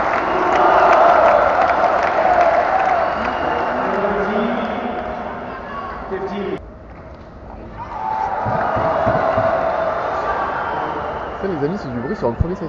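Cheering and clapping from a tennis crowd at the Rio Open swell, drop briefly into a quieter lull, then build again into a loud, sustained roar with scattered shouts.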